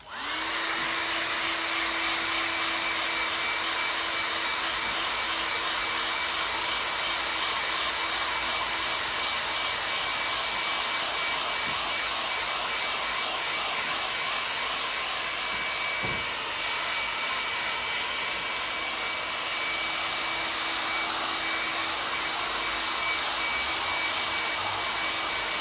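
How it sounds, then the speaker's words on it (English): A hair dryer blows continuously at close range over a dyed leather jacket, a steady loud whooshing roar with a faint whine, running without pause. "And then hit that with the hairdryer."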